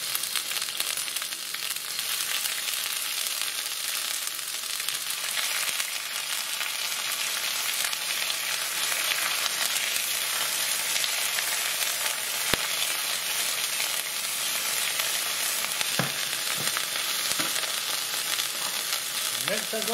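Ginger and garlic paste sizzles steadily in a hot pan for a BIR chicken madras, a continuous broadband fry with a few brief clicks and scrapes, close and alone with no talking.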